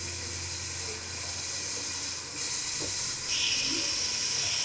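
Mutton liver sizzling as it roasts in a pan, a steady close hiss that swells slightly louder partway through, with no talking over it.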